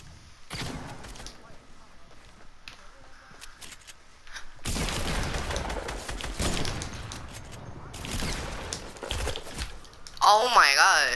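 Rapid bursts of gunfire from the video game Fortnite crackle in clusters, sparse at first then dense and loud, with game effects and a voice speaking over the shots.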